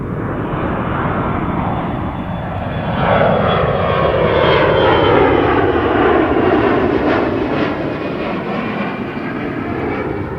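A fixed-wing airplane on an RNAV approach to Toronto Pearson roars steadily overhead, its engine noise swelling to a peak midway and then easing slightly while staying loud throughout, with no talk.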